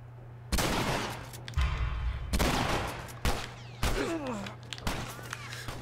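Bursts of gunfire ring out in The Last of Us Remastered, several sharp volleys separated by short pauses, loud and close.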